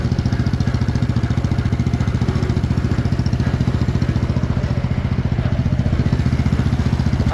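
A rebuilt 1958 John Deere 420V high-clearance tractor engine runs steadily close by, with a loud, even, rapid chugging pulse throughout and no talk.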